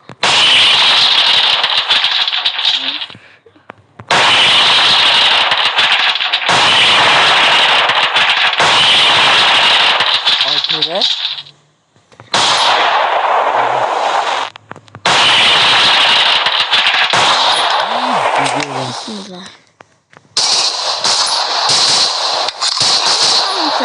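Uzi submachine gun fire in a video game, loud, dense bursts of rapid automatic shots that run for several seconds at a time, broken by short gaps.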